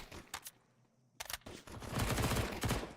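Gunfire from a Counter-Strike match, including Glock pistols and a P250: a few sharp isolated shots, a lull, then dense rapid bursts building into continuous overlapping fire at moderate distance.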